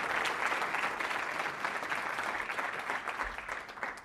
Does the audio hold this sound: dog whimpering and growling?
no